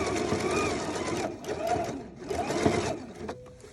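A Husqvarna Viking sewing machine stitches with a gathering foot in rapid whirring bursts, pausing briefly between runs. The sound is close and steady, with light mechanical ticks.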